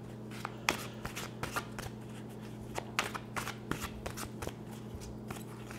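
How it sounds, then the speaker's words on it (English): A large tarot deck being shuffled by hand, a soft close series of irregular papery riffles and taps against a steady low background hum, with no talking. "I can barely shuffle it."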